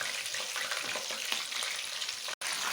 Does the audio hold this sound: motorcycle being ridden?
no